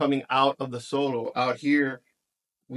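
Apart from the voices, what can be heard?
None of the usual background noises is heard.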